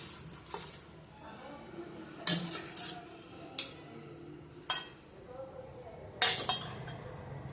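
Food being stirred in a pan with salt and chili powder, steady frying sizzle beneath repeated sharp clinks of a spoon against the metal, close and moderately loud, with no talking.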